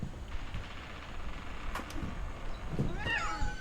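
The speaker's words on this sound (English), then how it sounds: "I hear a cat." A cat meows in the video game What Remains of Edith Finch, a faint drawn-out call near the end over a quiet background hum, with a couple of soft clicks just before.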